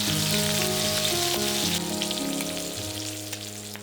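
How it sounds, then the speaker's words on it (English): Shrimp fry in oil in a non-stick pan or wok, giving a steady, loud, close sizzle with crackling that eases slightly toward the end, with no voices. "Fully cook the shrimp. It'll only take a couple of minutes on each side."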